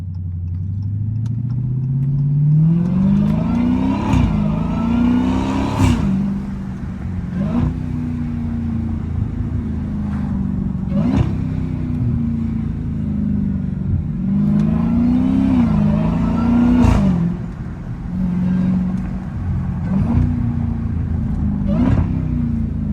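A Dodge Hellcat cruises downtown at night, its heavy supercharged V8 rumbling close and loud, repeatedly revving up and easing off through gear changes over steady road noise.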